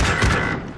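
Gunfire in an online team shooter game, a short loud burst of overlapping shots with a booming tail that fades out, no speech over it.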